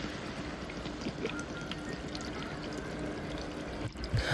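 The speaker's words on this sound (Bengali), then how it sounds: "এখন আমি এখানে পরিমাণ মতো জল ঢেলে দেব।" Water poured into a pan of sautéed bamboo shoots gives a steady, close pouring and trickling wash without talk.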